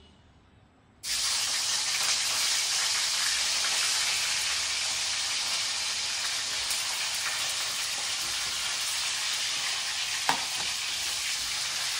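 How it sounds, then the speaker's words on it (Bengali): After a moment of quiet, a loud, sustained sizzle bursts up as cauliflower, potatoes and beans hit hot oil and keep frying steadily in the pan. "তো এগুলো আগে একটু ভেজে নিই।"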